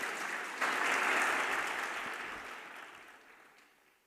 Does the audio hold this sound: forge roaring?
no